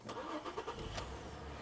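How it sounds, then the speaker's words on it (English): A car engine cranks and catches after a jump start from another car, a brief burst of starter turning with rhythmic pulses settling toward a low idle, heard alone at modest volume. "Let's go and start the car."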